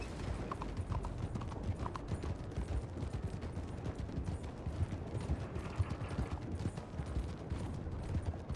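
Horse hooves clip-clopping steadily while riding in a video game, a continuous rhythmic patter of footfalls with a dense background bed, no talk audible.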